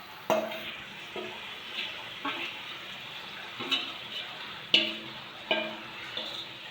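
Meat stirred into hot spiced oil in a wok, with a steady sizzle under repeated scraping strokes of a spoon against the pan at a regular rhythm, close by and fairly quiet.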